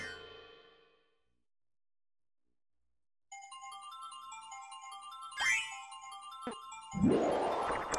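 A bright chiming level-complete jingle from the Nintendo Switch game Kirby Star Allies, Falluna Moon stage, ringing out after a brief silence, followed by a whooshing swell and a burst of sparkly effects.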